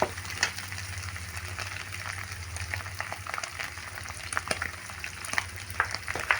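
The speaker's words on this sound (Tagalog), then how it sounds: "Gisa-gisa lang natin. Tapos ihalo na natin yung pinakuloang munggo." Boiled mung beans sauté in a hot pan, giving a continuous sizzle with scattered crackles and the scrape of stirring throughout, close and fairly loud, with no talking.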